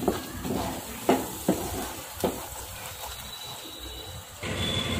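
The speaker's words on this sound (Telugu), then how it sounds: "ఇప్పుడు ఇదంతా మిక్స్ చేసుకోవాలి" Ground paste being stirred into a curry of paneer and green peas in a pan, with scraping spoon strokes and clicks over a steady low sizzle, close and alone.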